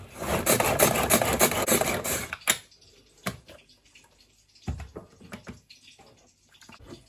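Guacamole is scraped down into a bowl with a close, continuous rasping rub for a couple of seconds, then a few sparse scrapes and knocks.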